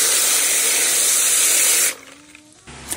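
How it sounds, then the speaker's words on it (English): A garden hose sprays water in a steady broadband hiss to rinse freshly dug gemstones, running strong and continuous for about two seconds before cutting off, leaving only faint low residual sounds. "it's time to wash these stones. So I got my, this hose."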